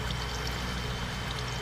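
Water flowing in Minecraft, a steady, fairly loud pouring and trickling wash with no breaks, like a water elevator column rushing continuously.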